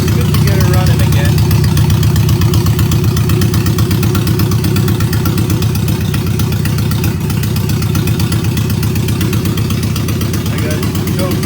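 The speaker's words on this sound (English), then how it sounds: "it's good to get it running again" A bobber motorcycle engine idles steadily and loudly throughout, a continuous low throbbing rumble that stays close and even for the whole stretch.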